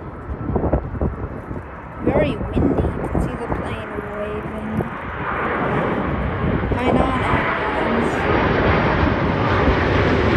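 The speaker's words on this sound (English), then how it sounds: "This is a Hainan Airlines A330-300 arriving from uh, Hong Kong" A Hainan Airlines Airbus A330-300 airliner arriving from Hong Kong at Sydney Airport in a crosswind, its broad engine roar building steadily and staying loud, with people talking nearby over it.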